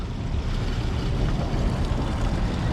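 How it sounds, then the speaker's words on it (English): Gray water rushes out of the holding tank of a 2018 Thor Citation RV as it is opened to dump, a steady, loud, broadband gushing with no break. "you're going to open up the gray water and let the gray water come out"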